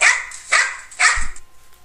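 A puppy on a beach gives a few sharp, close barks in quick succession, followed by a short low thump, with no talking.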